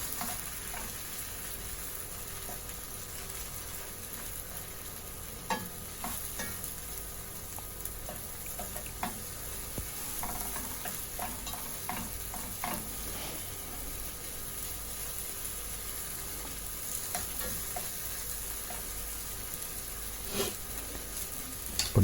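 Moringa flowers and duck egg burji cooking in a pan give a quiet, continuous sizzle, broken by scattered light scrapes and taps of a utensil gently mixing, close up with no talking.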